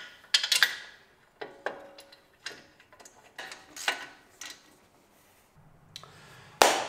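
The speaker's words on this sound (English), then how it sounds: "We're going to put the second bolt in." A hand ratchet tightens a brake caliper bolt on a Mini during an EBC Yellow Stuff pad and StopTech rotor job, its quick clicking bursts coming in short irregular runs with pauses between them, close and fairly crisp.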